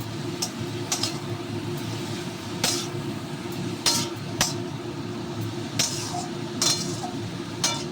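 Pumpkin greens are stirred and fried in a pan with salt, spices and ginger paste, giving a steady sizzle under repeated metallic clinks and scrapes of a spoon against the pan.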